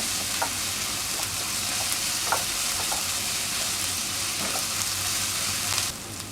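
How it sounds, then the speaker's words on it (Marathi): Ginger-garlic paste stir-fried in a pan for a capsicum and potato bhaji, a constant, close hiss of frying broken by a few soft stirring taps, the sizzle easing slightly at the very end. "फक्त 1 मिनिटभर आपण हे परतून घ्यायचं आहे।"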